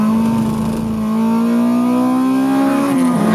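A modified Honda VTEC engine with a Skunk2 Pro 70 mm throttle body idles loudly up close, a steady deep drone holding one pitch that wavers slightly near the end.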